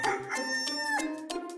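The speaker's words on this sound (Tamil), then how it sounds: "அங்க பாருங்க, சேவல் கூட கூவிடுச்சு." A rooster crows loudly and close by at dawn, one long drawn-out cock-a-doodle-doo with a rising harmonic call, clear with no talk over it.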